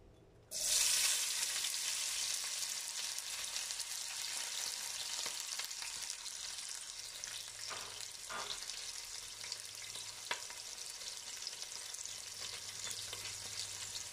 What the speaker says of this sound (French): Donc, je vais mettre l'oignon.